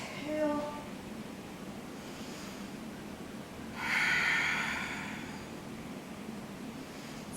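A person breathing through a Pilates roll-up sequence, with a distinct, breathy exhale swelling up and fading away midway, plus a shorter breath near the start, heard close over quiet room noise.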